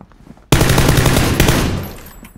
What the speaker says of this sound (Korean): 벌써 총소리 나네?